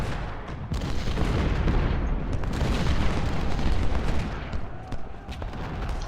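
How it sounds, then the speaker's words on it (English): Heavy cannon and massed gunfire from a Civil War battle video game at First Bull Run, a continuous rumbling barrage of booms and crackling volleys with sharp reports standing out over the roar. "Get some cannon fire focused on these guys."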